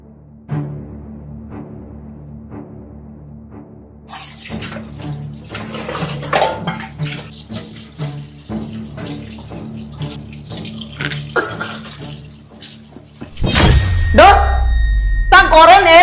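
Tap water runs steadily into a sink while dishes are scrubbed, with clinks and rubbing under speech. A louder gush of water surges near the end.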